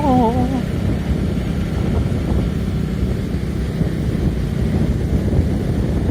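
Cold wind blowing steadily across open fields at the turn from rainy season to cool season, a constant low rumble of wind buffeting the microphone, loud and unbroken throughout.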